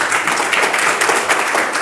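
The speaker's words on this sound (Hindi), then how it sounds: "बहुत ज़ोरदार तालियां हैं" Loud, dense applause from a school audience, steady hand-clapping filling the whole stretch without a break.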